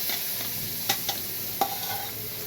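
Masala poured into a hot pan sizzles with a steady hiss, broken by two or three sharp scraping stir strokes over a couple of seconds.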